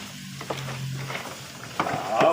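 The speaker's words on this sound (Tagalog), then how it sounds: "Atong i-mix mga lodi dara oh." Chicken is mixed into its marinade for barbecue: brief, close, wet squelching and stirring sounds in a short burst, with a faint voice in the background.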